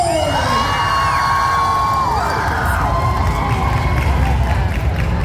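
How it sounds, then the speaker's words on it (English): A large crowd at an anime convention panel cheers and shouts loudly throughout, with whoops and high yells rising over a dense, steady roar. "make some noise for the voice of Cookie Shinobu Kira Buckley!"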